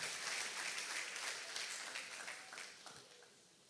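A church congregation claps and applauds steadily during a Sunday morning service, the applause gradually fading out over a few seconds.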